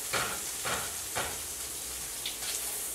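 Herb-infused scrambled eggs fry in a pan with a steady close sizzle, broken by several soft rhythmic scraping strokes as the eggs are stirred.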